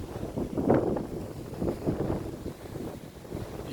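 Wind gusting across a busy beach in Fuengirola, a steady broad rush with buffeting on the microphone, swelling and easing over a few seconds with no talk.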